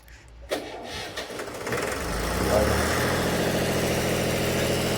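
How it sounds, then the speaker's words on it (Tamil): A vehicle engine cranks and catches after gearbox repair work, then settles into a steady, loud idle with a continuous rumbling drone and vibration that fills the rest of the stretch. "மோட்டர் ஸ்டார்ட் பண்ணுறாங்க"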